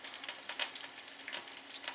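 Chicken with garlic frying in a pan, a steady close sizzle with crackling pops and brief louder spits throughout.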